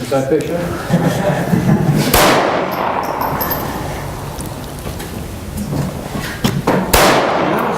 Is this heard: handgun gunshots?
yes